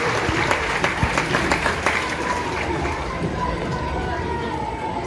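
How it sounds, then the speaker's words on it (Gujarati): Audience applause for the children of Gondal at a devotional gathering, a steady broad clatter of many hands clapping, sustained throughout at an even level. "એકવાર જોરદાર તાળીઓ ગોંડલના બાળકો માટે આપણે પાડીએ છીએ."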